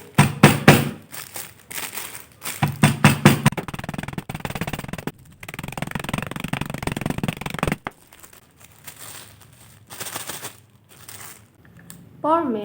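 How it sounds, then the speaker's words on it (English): Oreo cookies in a plastic bag crushed with a rolling pin, with rhythmic crinkling rolls and rustling plastic in repeated bursts, close and fairly loud, with pauses between passes. "And fold them with a rolling pin."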